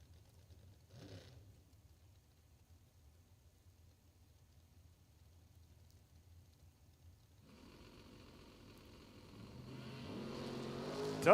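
A drag race car launching at a bracket racing event, heard from a distance: a faint engine blip early, then a growing roar swelling louder over the last few seconds as it accelerates down the strip.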